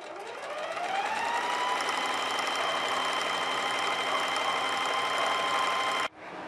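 A sewing machine runs steadily and close up for about six seconds, stitching a seam along the long edge of a strip for a jumper bow, with an even rapid whir that stops abruptly near the end.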